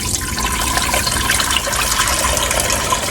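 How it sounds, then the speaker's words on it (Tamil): Water pours steadily into a cooking pot as rice is prepared for a Tamil-style chicken dum biryani, a continuous close splashing gush filling the vessel with no speech. "பாத்திரம் வச்சுட்டு தண்ணி ஊற்றிக்கலாம்."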